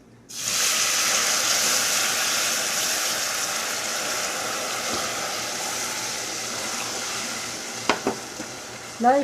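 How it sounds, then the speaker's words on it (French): Caramel sizzles and hisses loudly in a pan as hot cream is stirred in, a steady bubbling frying noise filling the whole stretch, with a few clinks of the utensil against the pan near the end. "on continue de remuer jusqu'à ce que le caramel fond une deuxième fois"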